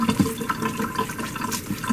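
Water splashes and trickles as a dental instrument brush is scrubbed with detergent, brief wet sloshing pulses close at hand with no speech over them.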